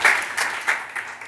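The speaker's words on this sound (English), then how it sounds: "So a big round of applause for Kon for doing that." An audience at a talk on hope gives a short round of applause: a steady, dense patter of clapping across the whole moment, moderately loud, with no voices on top.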